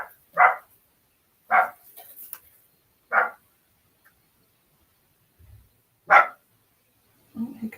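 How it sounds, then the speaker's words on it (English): Indoors, a single dog barks at something outside in separate sharp barks, five of them spaced a second or two apart, loud and close, with quiet gaps between. "here goes the dog. I think he's barking at something outside"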